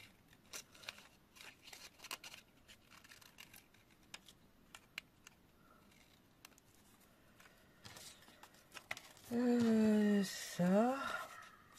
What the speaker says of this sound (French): On va couper du coup les 4 cœurs.